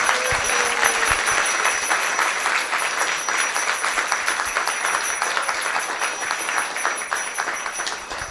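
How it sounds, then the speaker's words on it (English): Sustained audience applause at a Vyasa Puja celebration, a dense even wash of clapping from a large crowd that holds steady throughout without talk. "So let's give them a round of applause."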